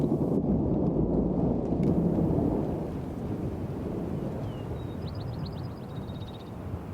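A storm sound effect in a narrated tale: a deep, heavy thunder rumble with rain that slowly fades, followed by faint bird-like chirps near the end, with no voice over it.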